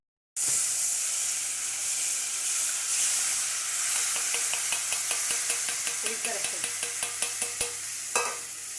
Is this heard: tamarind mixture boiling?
yes